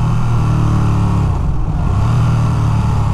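A 2023 Ducati Panigale V2 motorcycle engine pulls hard and loud up close, its steady roar dipping briefly mid-clip as a quick-shifter upshift cuts in before the drone resumes at full strength.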